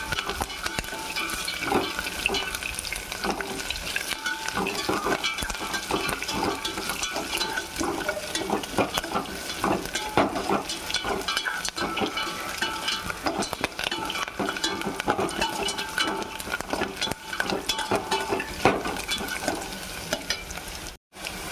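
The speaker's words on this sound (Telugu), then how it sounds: "ఉల్లిపాయ మెత్తపడింది కదా, కొత్తిమీర, కరివేపాకు వేసేసుకుందాం." Onions, coriander and curry leaves frying in a pan for rava upma, stirred steadily: a continuous sizzle with repeated scraping stir strokes throughout, close and moderately loud, no talk.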